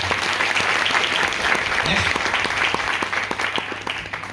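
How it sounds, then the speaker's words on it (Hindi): Loud, sustained applause from an audience at a motivational gathering, dense clapping filling the whole stretch with a few sharper individual claps standing out near the end. "मैं चाहूंगा एक बार जोरदार तालियां जरूर दें।"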